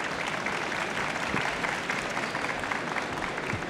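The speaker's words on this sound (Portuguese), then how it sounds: "Uma salva de palmas, por favor." An audience at a financial technology conference gives sustained applause, a dense and even patter of many clapping hands heard from a moderate distance.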